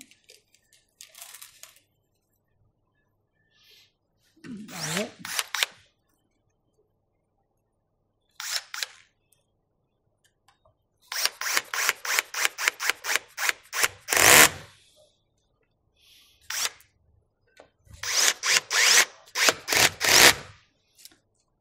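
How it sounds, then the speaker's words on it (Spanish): A clutch power drill drives screws into a ski touring binding heel piece, sounding as repeated short whirring bursts, some in quick rapid series, with brief pauses between, close and fairly loud with no talk. "Como veis, lo estoy apretando con taladro. Taladro desembragable que cuando llega al final salta para no pasarlo de rosca."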